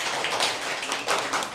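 Young schoolchildren clap together in a classroom geometry lesson, a continuous, dense patter of many small hands with a few louder surges, close and bright, no talking over it.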